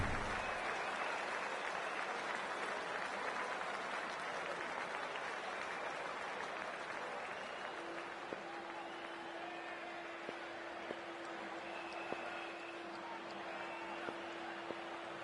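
A cricket stadium crowd applauds steadily, a dense wash of clapping and cheering that carries on throughout, with a sustained tone emerging in the latter half.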